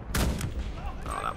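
A single booming gunshot in the World War II shooter game Enlisted during a D-Day defence, heavy and close, with a low rumbling tail that fades over about a second.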